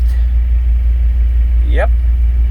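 Opel Lotus Omega engine running cold, a loud steady low idle hum holding constant throughout, with a brief higher chirp near the end.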